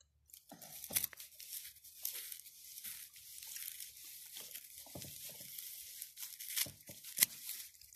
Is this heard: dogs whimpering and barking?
no